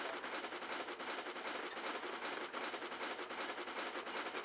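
A locomotive in a railway video game rolls down a steep hill on a Welsh light railway, a continuous dense rumble and clatter of wheels on track, steady and fairly loud with no voices.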